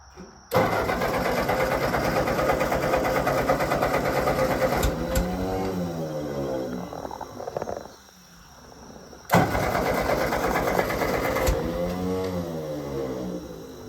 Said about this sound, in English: Loud, loud tractor